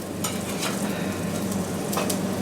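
Fried apple pies sizzle and spatter in a preheated hot skillet, a steady close frying hiss with scattered pops and crackles, no voices.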